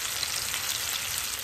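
Chicken pieces fry in a pan with oil, giving a steady, close, even sizzle that holds without pause and no voices over it.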